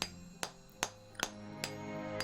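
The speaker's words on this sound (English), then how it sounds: "Let's just use the hammer and chisel." In the video game Pillars of Eternity, a hammer drives a chisel into a stone boulder, giving six sharp metallic strikes at a steady, slightly uneven pace over a faint background tone.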